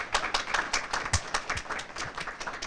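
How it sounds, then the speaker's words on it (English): A small audience at a graduate stole ceremony claps steadily in distinct, crisp, close hand claps that keep a loose, regular rhythm throughout. "Let's clap one more time."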